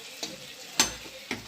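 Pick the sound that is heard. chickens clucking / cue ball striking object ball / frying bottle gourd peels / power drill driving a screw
frying bottle gourd peels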